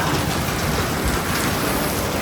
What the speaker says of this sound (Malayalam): ഉച്ചയായപ്പോഴത്തേനും നല്ല കിടിലം മഴ